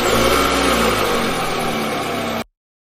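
A car engine runs loud and close with a steady idling rumble and a slight rev, then cuts off abruptly into silence.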